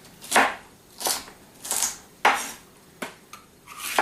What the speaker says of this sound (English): No need to be, you know, exact with our chopping here.